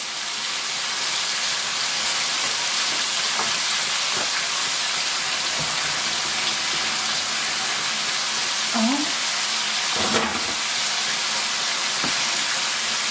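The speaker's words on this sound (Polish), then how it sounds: "Mieszamy i na dość dużym ogniu podpiekamy cebulkę." Onion and paprika for a pork neck paprika sauce fry over fairly high heat, producing a loud, even hiss throughout, with faint scrapes of stirring and a few soft knocks.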